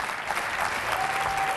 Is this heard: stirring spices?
no